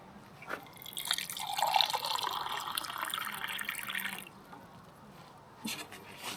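Water being poured into a container while camping in the Norwegian mountains, a steady close trickling pour lasting a few seconds before tapering off, with no talk.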